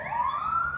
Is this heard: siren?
yes